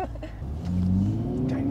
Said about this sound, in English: heard the exhaust bark at us a little bit